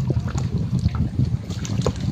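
A small wooden boat moves along a wide Sundarbans river after net fishing, with steady low rumbling and gentle water trickle and lapping, continuous and close, with no talking.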